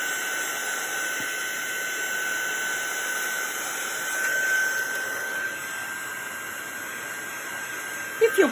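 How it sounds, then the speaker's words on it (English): A heat gun drying ink on a card gives a steady, moderately quiet airy whir that holds evenly from start to finish, with a couple of faint knocks at the end. "I'm going to just use my heat gun because I want to dry that off before I do the next"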